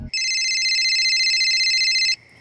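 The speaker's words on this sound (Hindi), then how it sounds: "लीजिए, आ गया होम मिनिस्टर का फोन" A telephone rings loudly and steadily for about two seconds with a bright electronic trill, alone in a quiet room with no talking.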